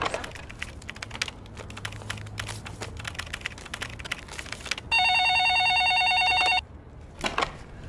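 At an office front desk, soft tapping and handling noises come first. Then a loud electronic telephone ring tone sounds as one unbroken burst of nearly two seconds, followed by silence.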